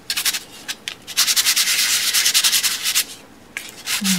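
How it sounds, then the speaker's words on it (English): Dry, rhythmic rasping of 400-grit sandpaper rubbed over raised edges of embossed metal, a run of quick close strokes with brief pauses, loud and alone. "take a little bit of sandpaper and go over your raised edges"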